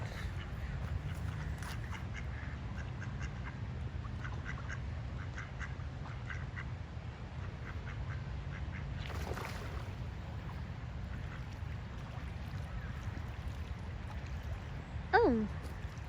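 Ducks swimming on a river give a few quacks over a steady wash of flowing water and wind, with one louder, nearer call near the end.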